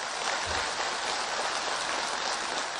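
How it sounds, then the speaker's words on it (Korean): Dense, enthusiastic applause from participants at a meeting on silkworm raising, a continuous even wash of clapping that stays loud throughout with no pauses. "회의에서는 경의하는 김종훈 동지께 드리는 맹세문이 참가자들의 열광적인 박수 속에 채택됐습니다."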